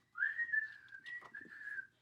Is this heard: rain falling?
no